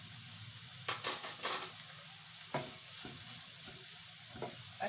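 Vegetables with salt and red chili powder being stirred in a kadhai, with a few quiet scraping strokes over a low, steady frying hiss.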